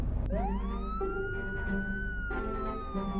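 A police siren wails loudly and steadily, rising at the start, then holding a sustained tone over about three seconds with no talk.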